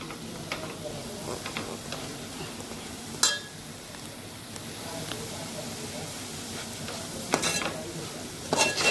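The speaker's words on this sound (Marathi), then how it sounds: "त्यालाही आपण व्यवस्थित परतून घेऊ त्याला मी मोठ्या गॅसवरती व्यवस्थित परतून घेतलेलं आहे" Washed dried shrimp (jawla) stir-fried over a high gas flame gives a steady close sizzle with occasional scraping stir clicks and a few sharper spatters.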